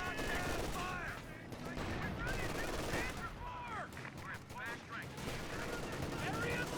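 Battle in Company of Heroes 2 with mortar fire and gunfire: dense rattling machine-gun bursts and distant booming mortar impacts layered over each other continuously, with a commentator talking over the combat.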